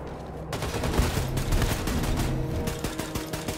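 Sustained automatic gunfire in Wolfenstein II: The New Colossus, a loud, continuous rattle of rapid shots that holds steady throughout, with no voices over it.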